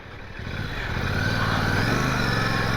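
A Royal Enfield Classic 650 twin-cylinder motorcycle engine hums and builds steadily as the bike is ridden, the drone swelling slightly louder over a few seconds.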